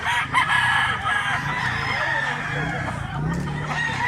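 A black-leg stag rooster crowing close by, a loud drawn-out call filling the clip with clucking fowl around it.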